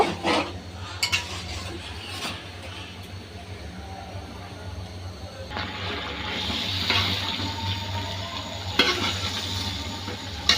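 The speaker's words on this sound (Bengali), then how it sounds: "এটা আবারও আমি এভাবে 10 মিনিট পর্যন্ত একটু সিদ্ধ করে নিই" Chicken pieces cook in a pot with a little water, a dense bubbling hiss running throughout, with occasional utensil knocks and a brief swell of louder sizzling midway.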